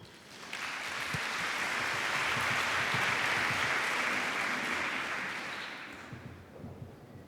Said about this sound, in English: So please, a warm applause for Antoinia.